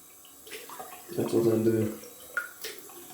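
A tap runs steadily while shaving balm is rinsed off, giving a soft, even hiss that swells briefly with splashing, and a voice speaks a few words over it.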